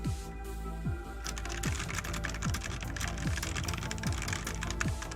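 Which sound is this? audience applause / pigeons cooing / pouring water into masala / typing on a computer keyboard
typing on a computer keyboard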